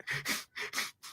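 Short raspy breaths in and out, four quick wheezing pulses in a fast rhythm, close and fairly quiet.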